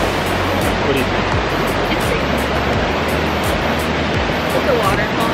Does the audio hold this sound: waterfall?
yes